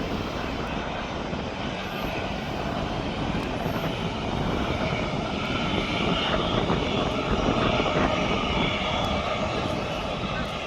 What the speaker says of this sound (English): And then we've got that TUI now that's off to Lanzarote.